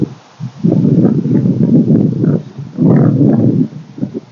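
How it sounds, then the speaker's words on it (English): Loud, blustery wind buffets the microphone in an autumn garden in Minnesota, rushing in heavy gusts that swell and ease, with rustling foliage and no voices. "Hopefully that wind isn't too loud."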